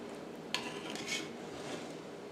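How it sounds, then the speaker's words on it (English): Spoon stirring sausage milk gravy in a pan, a faint scraping against the metal with one sharper clink, close and quiet, no talk. "And we're going to stir it."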